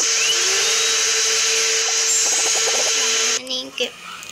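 A steady high-pitched motorized whine runs loud and continuous for over three seconds, then cuts off, leaving a few faint voices and thuds.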